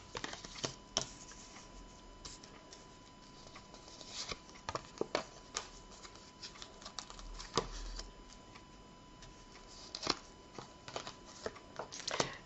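Tarot cards being shuffled by hand, a run of quick papery riffles and flicks that come in uneven bursts, fairly quiet and close, with no voice.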